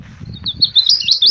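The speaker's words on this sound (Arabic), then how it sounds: "تسجيل عشان العصفور يحط على الصوت" Recorded call of a naqshar bird, played back as a lure during a hunt for migratory birds with glue sticks. It gives a run of high, thin chirps and trills that rise to a peak near the end, over low rumbling background noise.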